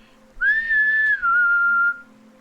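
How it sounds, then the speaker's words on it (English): A loud, clear whistle rings out in a tabletop Dungeons & Dragons fantasy adventure scene, one sustained tone that rises and then settles lower, held alone for about a second and a half. "loud whistle ring out"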